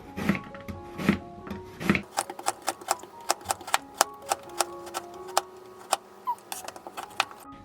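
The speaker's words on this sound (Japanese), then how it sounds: "人参とかちょっと固めの食材はできるだけ薄く切るようにしてます。" Knife cutting carrots into thin slices on a cutting board at home, a series of crisp, evenly spaced chops up close, a few heavier strokes first and then a quicker run of light taps.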